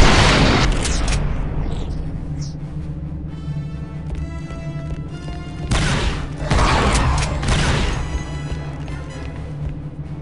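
A grenade blast in Star Wars Republic Commando booms loud and close, with further heavy impacts and rumbling crashes following in a dense, continuous battle din.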